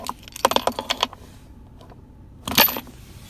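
Two keys and two key fobs for a 2012 Audi A4 Quattro jangle and clack together in a quick burst of sharp metallic clicks, a pause, then a second brief rattle, close and fairly loud.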